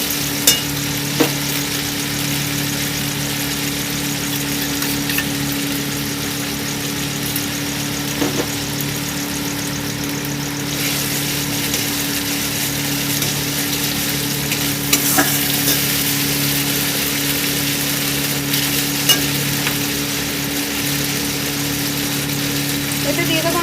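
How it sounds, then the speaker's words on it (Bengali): Bata fish curry masala sizzles and is stirred in a pan. A constant loud frying hiss carries occasional scraping strokes and a steady low background hum. "ভালো করে কষিয়ে নেব"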